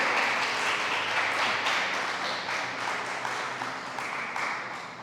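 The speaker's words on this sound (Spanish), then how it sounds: "Denle un fuerte aplauso al Señor," Church congregation applauding loudly in a sustained burst of dense clapping that fills the room, with a few louder swells and no talk over it.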